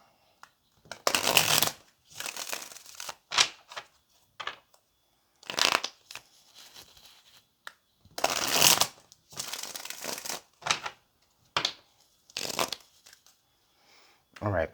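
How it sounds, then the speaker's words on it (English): Tarot cards being shuffled in repeated bursts of riffling and snapping, close by, with brief pauses between shuffles and no talking. "let's get one more shuffle"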